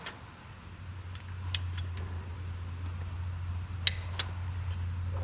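A torque wrench clicks on an oil pan bolt of a John Deere 4840 tractor during an overhaul, giving a few sharp, separate clicks over a steady low mechanical hum in a workshop.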